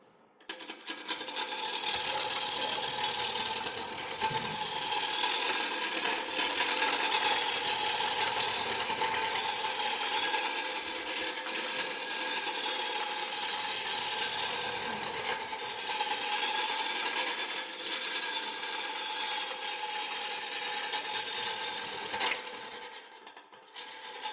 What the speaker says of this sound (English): This is just a normal roughing spindle gouge.